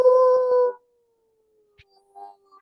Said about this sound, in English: Well, that's a wolf.